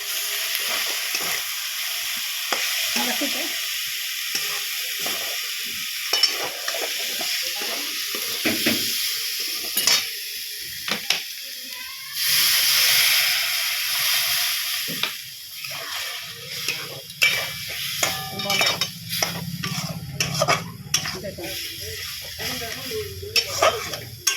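Chopped tomato sizzles and spits in hot oil in a home kitchen pan, with scraping stirs and clatter from the spoon, a steady loud frying hiss running throughout.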